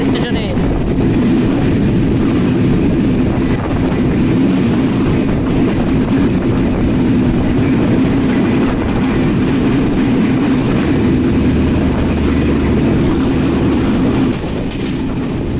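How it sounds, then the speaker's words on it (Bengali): The Kapotaksha Express intercity train rolls through Abdulpur Junction, a steady loud rumble of wheels and carriages with a continuous low drone that holds throughout, fading slightly at the end. "আন্তনগর কপোতাক্ষ এক্সপ্রেস আব্দুলপুর জংশন থ্রুপাস"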